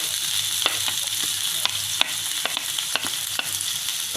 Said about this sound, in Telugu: వేసుకొని కలుపుకోవాలి.